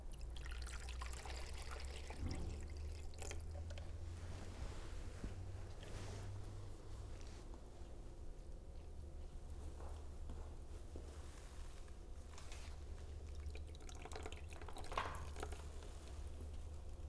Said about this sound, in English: The wetting of the table prepares it